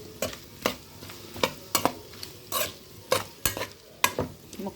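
A spoon stirs vegetable pieces with turmeric and salt in a pan, making a regular run of crisp scraping strokes, about two per second, over a soft background sizzle, close and alone without speech.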